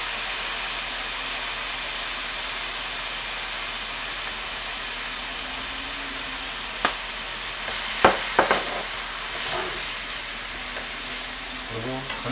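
Meat stir-fries in scallion oil with oyster sauce for Korean japchae rice, a steady loud sizzle throughout with a few sharp clatters of utensil against the pan near the end.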